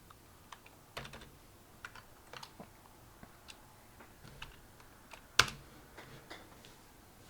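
Scattered keystrokes on a computer keyboard, irregular single taps with pauses and one sharper loud key strike near the end, close and alone with no voice.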